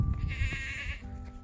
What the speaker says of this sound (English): I'm gonna ignore that goat, by the way.